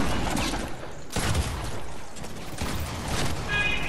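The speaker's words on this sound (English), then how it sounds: "It's just guns blazing, man." Rapid gunfire from a Fortnite match, the game audio rattling in dense bursts that fill the clip with steady busy noise and a short break just after one second, with no voices.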